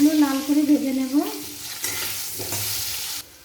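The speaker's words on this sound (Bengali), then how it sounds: "নাড়াচাড়া করে আলুগুলো লাল করে ভেজে নেব" Potato pieces stirred and fried in hot oil with turmeric and salt for a chicken curry, giving a steady close sizzle with spoon scraping early on and louder crackling bursts toward the end.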